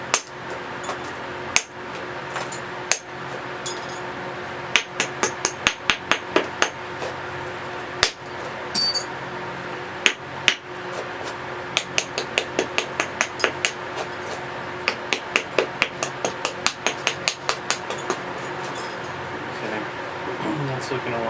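Stone being flint-knapped, with small thinning flakes struck off during unifacial reduction: sharp clicking taps, some single and some in quick clusters, close and crisp over a steady low background hum.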